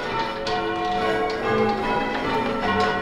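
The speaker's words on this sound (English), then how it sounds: "So then we swap bells 2 and 4 over." English church bells rung in changes, a dense overlapping peal of struck bells with sustained ringing tones and repeated strikes, loud and full, no voices.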